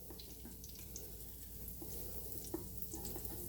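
Pancakes sizzle and fry in an overheated skillet on a stovetop burner, a steady faint crackle with no talking.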